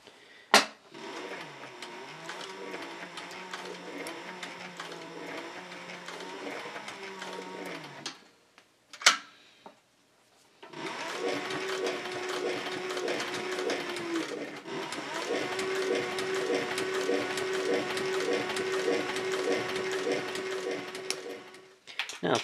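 A sewing machine stitching close to the edge of a cloth-lined leather belt pouch, with rapid mechanical chattering in long runs, a brief pause, then a second steady, louder stretch of rhythmic stitching.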